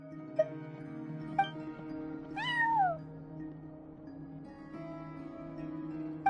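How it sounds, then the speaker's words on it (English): A cat at a front desk in Genshin Impact gives one clear, rising-then-falling meow in the middle, set against steady, quiet ambient game music. "No one except for a cat watching over the front desk"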